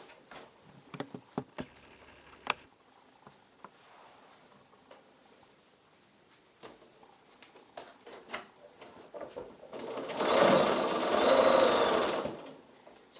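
A sewing machine stitching the seam of a quilt block made from 5-inch squares, heard first as scattered ticks and clicks and then as a loud, steady whirring run of stitching lasting a couple of seconds near the end.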